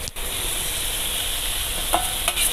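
Potatoes fry in hot oil with spices for an Assamese curry, giving a steady, close, continuous sizzle with a couple of faint stirring clinks near the end.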